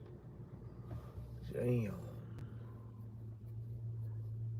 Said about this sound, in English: Yeah, this guy's got an old school car.